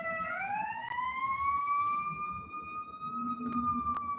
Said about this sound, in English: There's a lot of alarms for you, Frederrico.